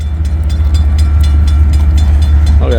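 A daily train from Chicago rolls past close by, a loud steady low rumble with regular rhythmic wheel clicks over the rail joints.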